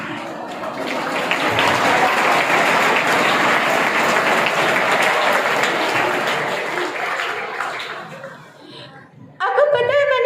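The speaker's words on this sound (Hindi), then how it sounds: "आपको पता है आपकी ये तालियां क्या बता रही है" A school audience at a Patna school function bursts into loud, dense applause that swells and holds for several seconds, then tapers off before a voice starts talking.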